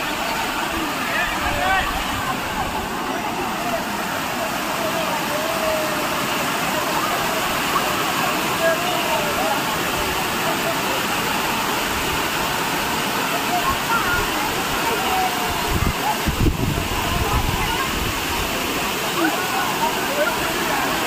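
A waterfall at Charlotte Lake in Matheran, heard as a steady, loud roaring rush of falling water that continues unbroken, with people talking underneath.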